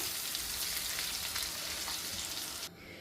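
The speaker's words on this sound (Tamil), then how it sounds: "இப்போ பார்த்தீங்கன்னா சிக்கன் வந்து நல்லா பொரிஞ்சிட்டுது" Chicken pieces deep-frying in hot oil for a chicken sambal, a steady close crackling sizzle that runs on its own and drops away sharply near the end.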